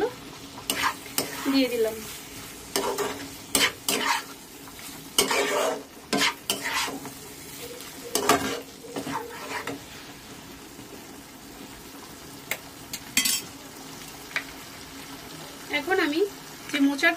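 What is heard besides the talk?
stirring fried prawns into a pan of banana flower curry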